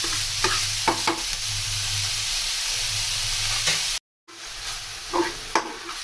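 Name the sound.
minced pork frying and being stirred in a pan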